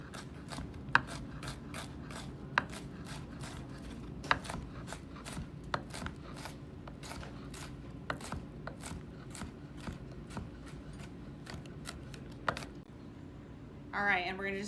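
A knife finely chopping vegetables for pico de gallo on a cutting board, with rapid, regular sharp taps close up, continuing for most of the stretch, followed by a brief rustle at the end.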